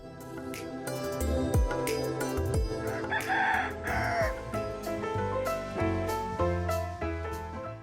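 Early morning in foggy countryside at Susunia, nearby roosters crow several times in drawn-out calls over a chorus of other birds and clucking fowl.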